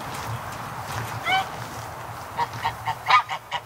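Honking fowl calls, plausibly Muscovy ducks near their nests, rise in short bursts, one around the first second and a quick run of louder calls toward the end, all over steady talk and low background rumble.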